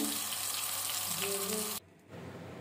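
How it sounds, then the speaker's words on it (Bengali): Pumpkin-leaf lentil paturi frying in oil, a steady hissing sizzle that cuts out abruptly near the end, then returns more faintly. "কি সুন্দর ভাজা হচ্ছে"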